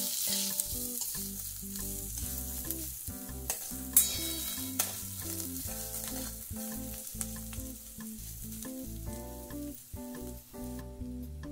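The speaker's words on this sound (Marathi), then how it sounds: "आता हे शिमला मिरची घालते, कांद्यासोबत आणखी शिजू देते।" Capsicum and onion frying in hot oil, a continuous close crackling sizzle with stirring scrapes and utensil clatter, one sharper knock about four seconds in, no voices.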